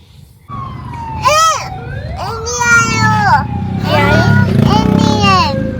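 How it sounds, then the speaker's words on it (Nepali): A loud ambulance siren wails in repeated rising and falling sweeps close by, with traffic rumbling underneath. "एम्बुलेन्स आयो एम्बुलेन्स"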